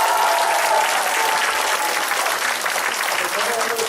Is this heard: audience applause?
yes